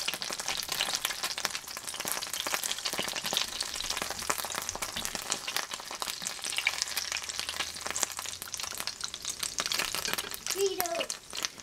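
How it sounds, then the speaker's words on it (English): Cherry burritos fry in hot oil with a loud, dense sizzle and constant crackling splatter throughout, close and steady, with a faint voice speaking briefly underneath. "You can hear it splattering"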